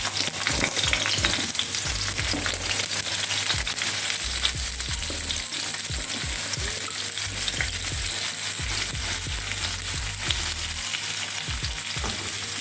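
Onion sizzles and crackles steadily in hot oil over medium heat, with periodic scraping and stirring sounds from a utensil in the pan.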